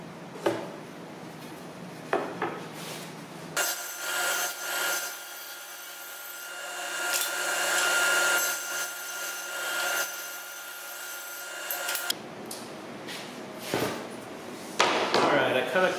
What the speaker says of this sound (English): I think I might run these through the table saw one more time and just shave a little bit off, maybe a 1/16 off